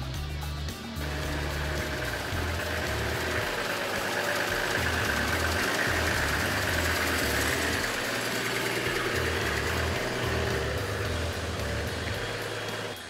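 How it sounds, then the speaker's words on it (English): A 4WD diesel car climbs a hill in second gear, its engine a steady, loud low rumble with knocking diesel character that holds throughout without any talk. "We use second gear, we pull away steadily and increase our speed as we go up the hill"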